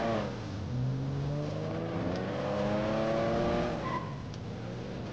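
A stolen James Bond car in GTA 5 is driven hard, its engine revving and climbing in pitch, with a tire squeal at the end.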